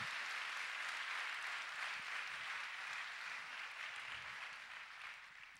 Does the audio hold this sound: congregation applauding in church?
yes